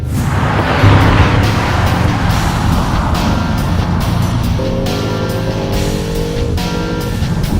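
An Audi RS7 with dynamic sport mode engaged roars loudly and steadily, its engine note climbing in pitch partway through as it accelerates hard, with a continuous road rush underneath.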